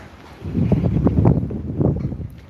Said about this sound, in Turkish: biraz da rüzgar var biliyorum farkındayım.